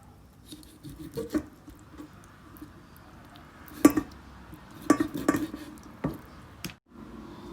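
Chicken wings being cut into two pieces on a board in a home kitchen, giving a few soft, scattered knocks and clicks of blade and dish, with a couple of sharper taps close by and no talking.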